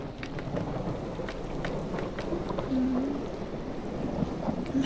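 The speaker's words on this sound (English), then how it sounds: "The storm is scary." Rain falls steadily during a Minecraft thunderstorm, a broad hiss with low rumbling beneath and scattered sharper drips, continuous and fairly close, with a brief faint tonal sound partway through and no talk.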